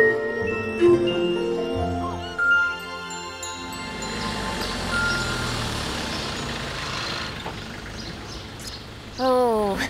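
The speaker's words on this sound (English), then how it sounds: "just listen to all those birds singing" Birds singing outdoors on a country lane, scattered chirps and whistled phrases heard faintly and intermittently behind a soft outdoor background, with occasional brief voices.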